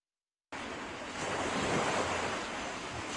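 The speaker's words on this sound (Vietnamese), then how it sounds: "sóng dữ làm nhiều bờ biển, cửa biển tại tỉnh Thừa Thiên Huế bị sạt lở nặng" Sea waves surge steadily onto a storm-eroded coastline in Thua Thien Hue after a storm, a continuous loud roar of surf mixed with wind buffeting the microphone.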